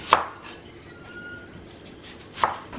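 A kitchen knife chops garlic, chili and ginger on a board, giving two crisp, close knocks spaced a couple of seconds apart, with quiet in between.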